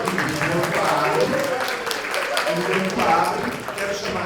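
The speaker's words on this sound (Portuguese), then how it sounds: "Pode aplaudir" An audience applauds at a book launch during an academic round-table, with steady, continuous clapping throughout and voices mixed into the wash.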